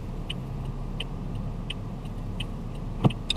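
A manual car's engine hums steadily while the driver shifts into reverse. A light regular ticking runs through it, and a single thump comes near the end. No one speaks.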